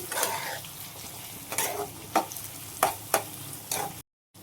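Ground cinnamon, clove and pepper masala roasting in a pan, a soft steady sizzle broken by several sharp scraping strokes of a spoon, close and moderately loud, ending abruptly.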